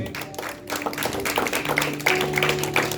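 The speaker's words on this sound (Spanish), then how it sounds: "Da un aplauso al Señor." Applause from a church congregation, a dense spread of clapping that holds steady and swells slightly toward the end, with a sustained tone underneath.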